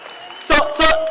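Audience at a youth crime prevention indaba in eThekwini breaking into two short, loud bursts of applause, each lasting about a quarter second, over a faint steady background.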